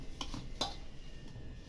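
Wheat and millet flour is mixed with spices, sesame, curry leaves, coriander and a spoonful of oil in a bowl for masala shakarpara dough, giving a few faint scraping and clinking taps from a spoon against the bowl, close and quiet.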